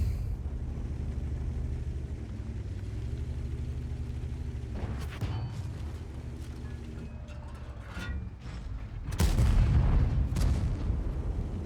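Tank gun firing in World of Tanks from the 50TP Prototype, with a steady engine drone, a few sharp mechanical clanks, and then one loud booming shot near the end whose rumble lingers.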